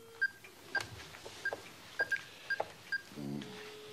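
A telephone number is dialed on a keypad phone, roughly eight short tone beeps at an even pace, close and fairly clear, followed by a brief ringing tone.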